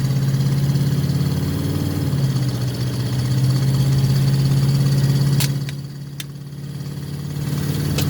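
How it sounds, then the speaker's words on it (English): A loud RV engine runs steadily with a deep, constant hum while driving, easing off briefly near the end before building back up. "You hear how loud this thing is."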